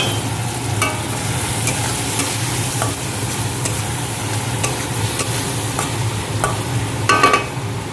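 Fried potatoes sizzling in a pan as spices go in, with repeated scrapes and stirring clinks of a utensil over a continuous close frying hiss, louder briefly near the end.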